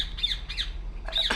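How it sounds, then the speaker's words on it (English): A bird squawks in the VR game Republique, three harsh, shrill cries spaced across a moment over a low steady hum. "What the hell's up with that bird?"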